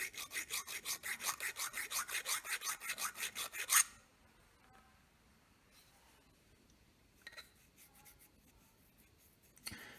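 A small Nicholson flat file worked over a steel firing pin makes a rhythmic series of close, evenly spaced rasping strokes for about four seconds, followed by quiet with a few faint handling clicks.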